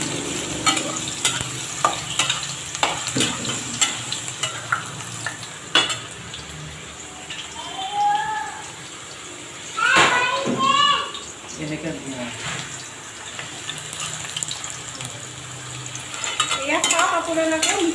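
Small fish (mishila) being stirred as they fry in a hot pan at home for dinner, a steady sizzle with scraping and clinking of utensil against the pan, intermittent with a voice talking over it.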